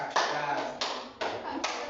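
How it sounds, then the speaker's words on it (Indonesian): Several hand claps struck in a counted pattern during a classroom exercise, four sharp separate claps spaced about half a second apart, close and fairly quiet, with no talking over them. "tepuk satu, tepuk dua, tepuk tiga"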